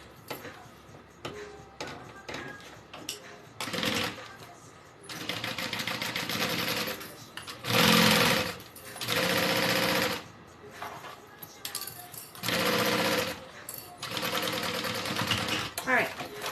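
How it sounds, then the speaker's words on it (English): A sewing machine stitches backpack panels together in several bursts of steady whirring, separated by pauses where a person talks and handles the fabric. "Okay, sew this in place."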